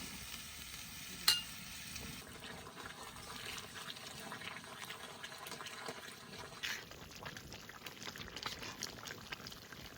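Taro stolon and prawn curry sizzles and bubbles softly in a pan, a low continuous frying hiss with occasional light scrapes and taps.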